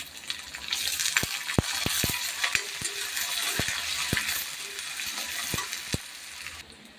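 Onions fry in a pan for a mushroom fry, a soft continuous sizzle broken by sharp clinks and scrapes of a spoon stirring against the pan.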